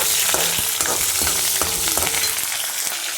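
Panch phoron five-spice and green chilli tempering in hot oil, a loud continuous sizzle and crackle with sharp pops and spatters, close up and without any talk.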